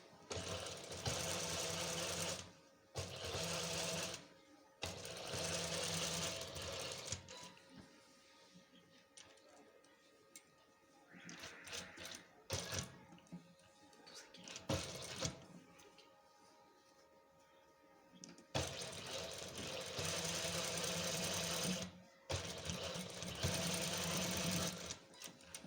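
A sewing machine stitching a cloth face mask in a tailoring class, several loud bursts of rapid rattling stitches close by, separated by quiet pauses, with someone speaking between runs.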